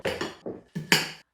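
Garlic, pepper and onion tipped into a skillet, heard as a quick series of close clattering metallic clinks and scrapes of utensil against pan, with no talking.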